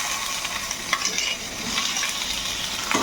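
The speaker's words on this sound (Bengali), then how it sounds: "তো এই চিংড়ি মাছগুলো এর সঙ্গে আবারও একটু সটে করে নেব" About 100 grams of prawns sauté in a pan with chillies, a steady close sizzle broken by a few soft stirring scrapes, with no voices.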